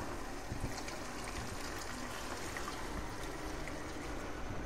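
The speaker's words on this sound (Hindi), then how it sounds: "यहाँ मैं एक मग पानी ऐड कर रही हूँ" Water from a mug poured into chicken aloo keema cooking in a pan, a faint steady rushing pour with no talk.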